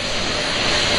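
Artemis II rocket, NASA's most powerful, roaring at launch with four crew aboard; a dense, loud, steady broadband rumble fills the whole moment without a break.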